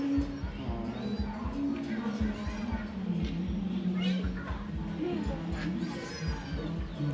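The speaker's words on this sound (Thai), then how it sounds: "เสียงแมว" A cat meows several times amid a steady low rumbling background, with faint voices nearby.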